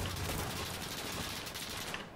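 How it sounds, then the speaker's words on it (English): Rapid gunfire from the video game Insurgency Sandstorm, a dense, sustained volley of shots that stays loud and close for the whole stretch with no speech over it. "Literally, the sound of the gunfire is enough to make you slightly wet yourself at points."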